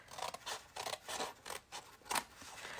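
Scissors snip through paper while panels of a small two-inch fold-flat box are cut, a string of close, crisp cutting strokes in an irregular rhythm with short gaps, heard alone without talk.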